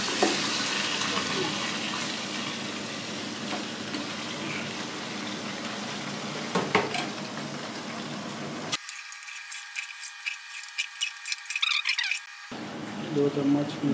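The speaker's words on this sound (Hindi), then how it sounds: "अभी इसमें हम गोश्त डाल के इसको फ्राई करेंगे" Mutton pieces frying in a pan for tehari, a steady broadband sizzle with stirring scrapes and clinks, close and loud, dropping to a thinner hiss for a few seconds near the end before the full sizzle returns.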